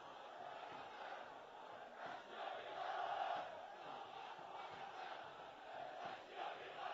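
Damash Gilan football supporters chant together in a stadium during a live league match against Mes Kerman, a dense, steady roar of many voices swelling slightly midway and continuing throughout with no talk over it.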